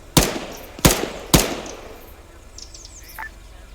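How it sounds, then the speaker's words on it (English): Machine gun fire in a military simulation game, heard as three loud, sharp shots spaced roughly half a second apart, followed by quiet outdoor ambience with faint chirps and no talking. "They got a machine gunner up there."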